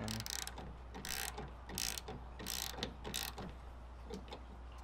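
Ratcheting wrench clicking in quick bursts as bolts are snugged down during a Uniden Pro 520XL CB radio install in a Toyota Tacoma, close and rhythmic over a low steady hum.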